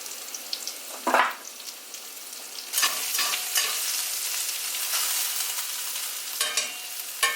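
Pre-cooked potatoes sizzle and crackle in a hot pan, with scraping stirs and occasional louder bursts of spitting oil, close up and without talk.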